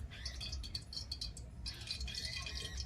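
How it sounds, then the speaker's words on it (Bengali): Mustard oil hits a hot wok and spits in short, crackling bursts of sizzle, fairly close and moderately loud, with a brief lull in the middle. "কড়াটা গরম হয়ে গেছে। এরপর আমি দিয়ে দিচ্ছি সরষের তেল।"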